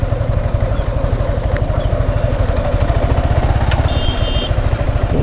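A motorcycle engine idles close by with a steady, rapid low thumping that holds evenly throughout, with no voices over it.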